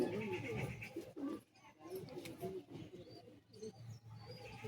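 Old pigeons in a loft at Bagnan coo softly and repeatedly over a murmuring, busy background, fairly faint and close.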